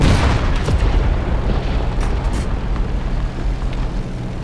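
A video-game airplane drones steadily with a loud, low rumbling roar that holds for several seconds, no talk over it.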